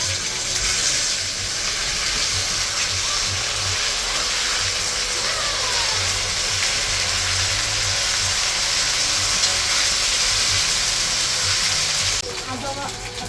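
Ginger paste, cumin paste and coriander-cumin paste hitting hot oil with fried potatoes in a frying pan for rui fish curry, giving a loud, continuous sizzling hiss that cuts off abruptly near the end.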